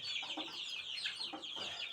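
Soft, repeated clucking from chickens nearby, a quiet run of short calls with no voices.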